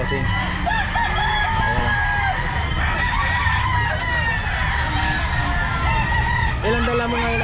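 Roosters crow repeatedly among other clucking fowl at a busy Sunday pet market in Grotto, with a crowd murmuring and a voice speaking briefly near the end.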